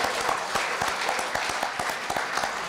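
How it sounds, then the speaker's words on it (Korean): Alumni at a high school alumni association general meeting and New Year gathering clap together in approval of an honorary chairman, a steady, dense round of applause from a sizable crowd. "동문 여러분께서는 박수로 추대해 주시기 바랍니다."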